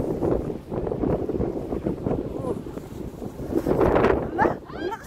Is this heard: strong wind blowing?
yes